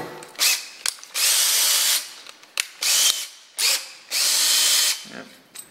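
A power drill whirs in four bursts of about a second each, stopping and starting between runs, loud and close with small clicks in the gaps.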